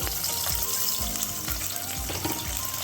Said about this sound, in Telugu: ఆయిల్ వేడయింది, తాలింపు వేగుతుందండి. ఉల్లిపాయలు వేసుకుందాము.